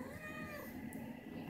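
A mother cat with kittens meows in a steady, drawn-out call lasting the whole moment, fairly close and clear over a low background hum.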